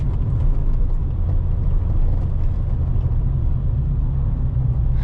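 A car engine rumbles steadily with low road noise from inside the moving vehicle, constant and fairly loud without any talking.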